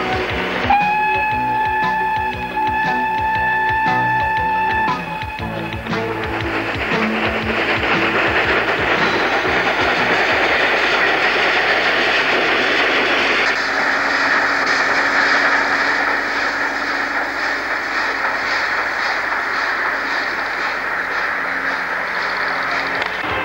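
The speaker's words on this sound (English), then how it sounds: "the Flying Scotsman and Pendennis Castle coupled together for the first time and reversing to the Perth terminal for the first double-header run" Flying Scotsman and Pendennis Castle, two steam locomotives coupled as a double-header, reversing near Forestfield yards toward Perth; a loud whistle or horn sounds over the first seconds, followed by sustained rumbling, hissing train noise with no talk.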